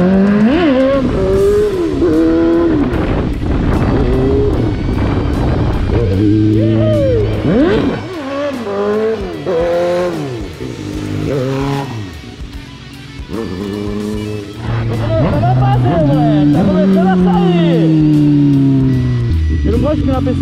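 A Honda Hornet motorcycle revs hard during wheelie attempts, its engine pitch climbing and falling in repeated sweeps, loud and close throughout, with a brief quieter lull near the middle.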